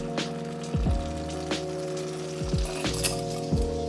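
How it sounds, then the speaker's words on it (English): Two burger patties sizzle and fry steadily in melted butter in a pan for a keto cheeseburger, with crackling spatters and several short scraping stirs of a utensil against the pan. "I want to make my patty with butters."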